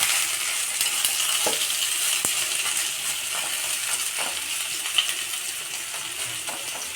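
Sarvapindi, a Telangana rice-flour flatbread with bottle gourd pieces, roasts in a pan with a steady close sizzle, while a spatula scrapes and taps now and then and one sharp clink stands out.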